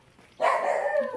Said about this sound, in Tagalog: Nakakatakot yung aso